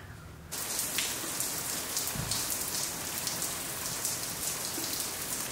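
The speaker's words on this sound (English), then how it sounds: "unfortunately it's raining" Steady rain patters and hisses on surfaces, starting after a brief quieter moment and continuing evenly and moderately loud with no talking.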